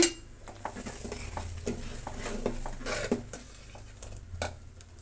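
Rock salt tipped into a pot of simmering ridge gourd bassaru, producing a scattered run of small clinks, taps and a soft stir against the vessel, close and fairly quiet, with no talking.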